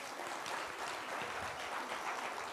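Audience applause at a live WOW 2013 conference talk, a steady wash of clapping from a crowd that holds at even loudness throughout with no voices over it.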